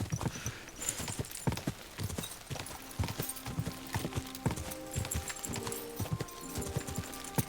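Horse hooves clip-clop and gallop in a steady, brisk rhythm in the medieval video game Kingdom Come: Deliverance 2. Occasional snorts and game sounds join in, heard up close with no speech.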